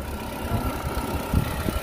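A Chevrolet Cobalt car's engine idles at a used-car market in Bukhara, a steady low rumble with soft uneven pulses running throughout, fairly close and with no talking.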